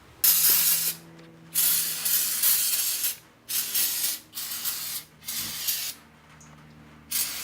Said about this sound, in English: we're going to go ahead and use a little bit of brake parts cleaner, spray everything down and clean it